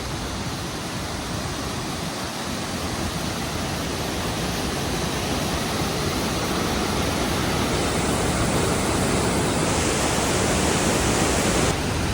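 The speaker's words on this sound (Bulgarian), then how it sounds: "Уникален водопад." Bistritsa waterfall roars as a dense, loud, unbroken rush of falling water, steady and close for the whole stretch, with no voices.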